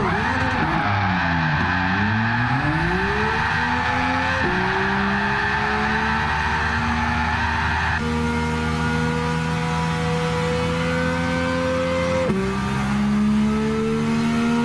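A Nissan Skyline R32 does donuts in Gran Turismo 7, its engine droning loud and steady while the tyres squeal continuously, pitch sliding and shifting as the car spins.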